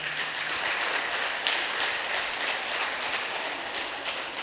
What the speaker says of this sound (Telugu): మనము గట్టిగా క్లాప్స్ కొడదాం